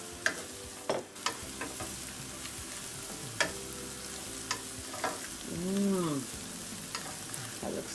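Bacon sizzling in a pan of sautéed cauliflower, a steady close frying hiss broken by sharp clicks and scraping stirs, with a brief clatter of utensils and no talking.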